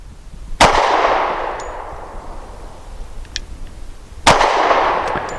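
Two sharp, loud shots from a Rock Island 3.1-inch double-stack .45 pistol firing 230-grain hollow points, spaced a few seconds apart, each with a bright metallic crack and ringing outdoor decay.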